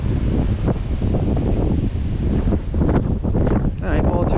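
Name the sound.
wind blowing outdoors while fishing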